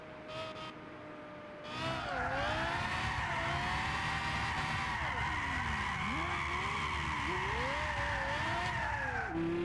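A stock Lexus LFA Nurburgring Package on changed tires drifts in first gear in Gran Turismo 6, its tires squealing loudly and continuously with wavering pitch over the engine's roar after a brief quieter opening.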